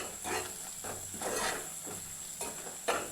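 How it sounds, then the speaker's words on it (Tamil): Masala frying in oil in a pan, salted, for a ridge gourd gravy; soft sizzling with a few stirring scrapes close by, no voices. "நல்லா அந்த மசாலா வெந்து அந்த எண்ணெய் பிரிஞ்சு வதங்குது இல்லைங்களா"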